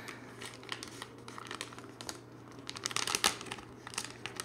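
Sheets of paper crinkling and rustling as they are folded for origami, close and quiet, with a cluster of sharper crisp creases toward the end.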